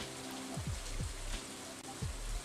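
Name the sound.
rain falling in video game Stardew Valley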